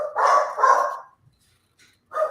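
Jack Russell terriers give sharp, loud barks at close range: two quick barks together, a pause, then another bark.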